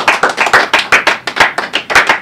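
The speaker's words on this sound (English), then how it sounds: "I have no idea what that kind of clap is." Studio audience clapping in unison on a late-night comedy show, about a dozen sharp, evenly spaced claps in a rapid steady rhythm, loud and close, with no talking.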